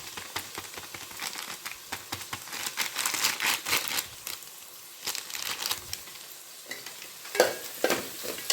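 Spices being stirred into a paneer and capsicum gravy in a pan: close, continuous scraping and sizzling strokes, uneven in rhythm, with no talk.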